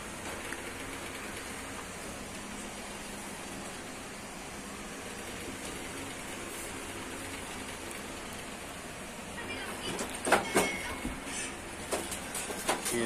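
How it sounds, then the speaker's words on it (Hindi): Water poured into an air conditioner during leak testing makes a steady, even rushing patter like light rain throughout, with brief sharper clattering splashes toward the end. "ये जो है टेस्टिंग चल रहा है पानी डाल के कि लीक तो नहीं हो रहा।"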